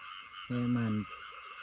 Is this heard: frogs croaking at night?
yes